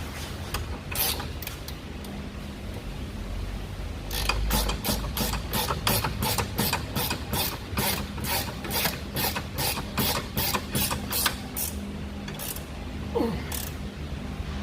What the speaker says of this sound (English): Now I want to tighten this up. I'm gonna do these by hand.